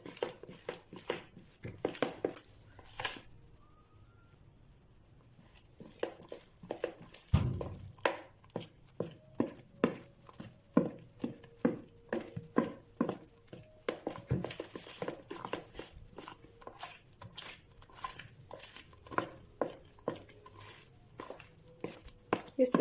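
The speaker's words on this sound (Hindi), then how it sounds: "इस तरीके से मिक्स करना है कि बहुत ही स्मूथ बैटर बन जाए।" Cake batter is whisked smooth in a bowl, giving a steady run of soft, close ticking strokes that quicken as it goes on, with a quiet voice speaking in the background.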